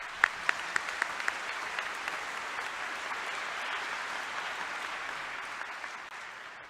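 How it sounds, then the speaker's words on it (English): An audience at a University of Illinois commencement applauds the faculty with sustained, fairly distant clapping from a large crowd. The applause is preceded by a few sharp individual claps and holds steady before easing off. "Please join me in a round of applause for your faculty."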